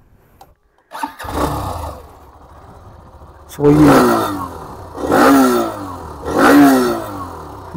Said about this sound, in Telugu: ఈ బైక్ యొక్క ఎగ్జాస్ట్ నోట్ అనేది వినిపిస్తాను మీకు